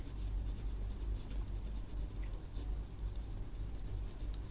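A word is written by hand during a Hindi-to-English lesson, a soft continuous scratching of pen or marker over a steady low hum, with no talking.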